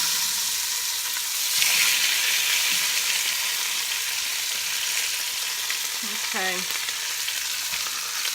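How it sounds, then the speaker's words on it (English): Pork chops sizzle in hot grease in a pan, a steady close crackle and hiss throughout, with a brief spoken word partway through. "I'm going to go ahead and put the pork chops back in here."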